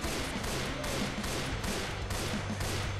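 Rapid gunfire from the video game Left 4 Dead 2, a dense run of repeated shots bursting in a steady rhythm for a few seconds with no talk.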